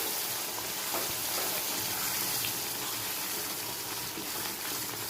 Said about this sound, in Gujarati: તો હવે આપણે થોડું થોડું દૂધ અને પાણી એડ કરીશું